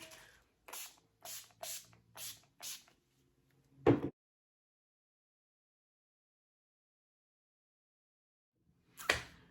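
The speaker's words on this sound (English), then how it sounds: "I'm gonna use Limelife's Time Setter Makeup Finish Spray" Close, quick pumps of a fine mist of Limelife Time Setter makeup setting spray, five short hisses in a row, followed by a sharp click, a long silence, then another burst.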